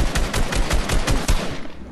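Rapid automatic gunfire rings out in a Fortnite match, a dense burst of roughly a dozen sharp shots in quick rhythm, loud and continuous for under two seconds.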